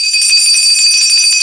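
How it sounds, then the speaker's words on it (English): A hand bell rings loud and sustained, a bright steady metallic tone held close for its whole length with no talk over it. "Didn't I tell you when I ring that bell?"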